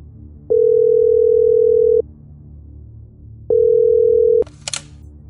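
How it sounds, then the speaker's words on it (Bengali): Two long steady telephone call tones, one of about 1.5 seconds and a shorter one, sound in a Bengali suspense audio drama as a detective phones a forensic doctor, followed by a brief click. "শিবানী কিছুক্ষণ চুপ করে ফরেন্সিকের ডক্টর গুপ্তকে ফোন করলো।"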